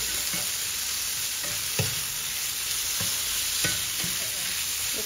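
Sautéed bitter gourd (ampalaya) with eggs is stirred in a pan, a spatula scraping in regular strokes about once a second over a loud, constant sizzle, close up and without talk.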